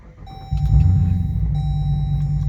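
A swapped-in 6.4 Hemi V8 in an R/T fires up about half a second in and settles into a loud, deep rumbling idle. Steady electronic warning chimes tone above it.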